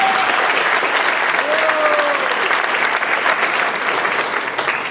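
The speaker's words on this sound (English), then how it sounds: "Give yourselves a round of applause, please." Thunderous applause from a large audience at a May 2015 commencement ceremony, a dense, steady wash of many hands clapping loudly throughout, with a few faint voices and whistles mixed in.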